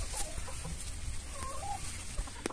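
Hens cluck in a backyard henhouse where grass is grown inside the run, with short scattered clucks and brief calls at moderate distance over a steady outdoor hiss.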